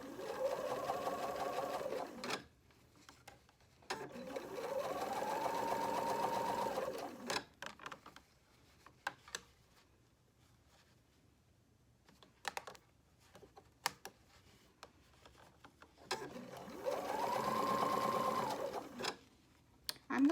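A sewing machine stitching a ribbed cuff runs in three steady, whirring bursts of a few seconds each, with quiet clicks and handling noises between them.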